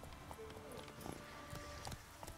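Horse hooves clip-clopping in The Witcher 3 as a wild horse is caught and ridden, a few soft irregular hoof thuds over game ambience and faint background voice.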